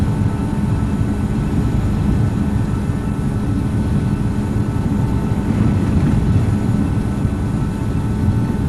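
An airliner on takeoff in the Infinite Flight simulator, heard as a loud, steady, broadband engine roar that holds without a break.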